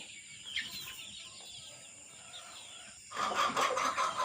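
Quiet, scattered clucking from a few deshi chickens, including a breeding rooster, followed by a louder burst of fowl calls near the end.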